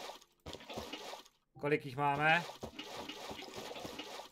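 Buckets being filled with water in the Minecraft video game, heard as a gurgling, rising pour of liquid under someone speaking. Short clicks and game sounds come before and after it.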